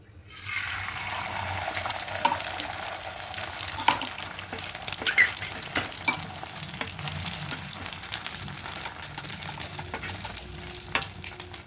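Egg roll frying in oil in a pan, a continuous loud crackling sizzle with scattered sharp pops and spatters throughout, close and steady with no voices.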